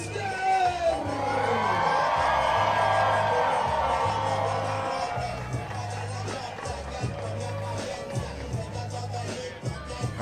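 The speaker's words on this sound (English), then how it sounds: "They come out to the applause of the local fans here in León." Local fans in a León arena cheer and applaud as Mexico's team comes out at the FIBA 3x3 AmeriCup 2025 basketball event, a loud, sustained crowd roar with whoops over a steady low hum that eases slightly toward the end.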